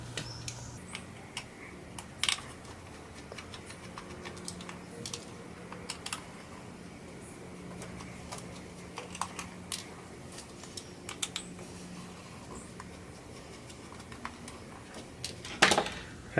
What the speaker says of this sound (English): remove the 4 screws from the bottom of the case using your Phillips head screwdriver